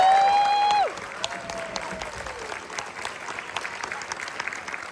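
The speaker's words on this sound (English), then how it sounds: "Please give them a round of applause." Concert audience applauding at a high school concert band winter concert, a steady wash of clapping that rises after a sustained note fades and carries on evenly through the rest.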